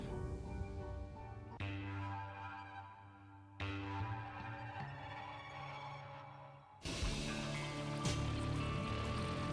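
Dense rain ambience from the Downpour level of The Binding of Isaac, with synthetic musical tones, shifting abruptly a few times, steady and fairly loud throughout with no voices.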